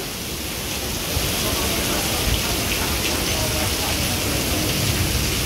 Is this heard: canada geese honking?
no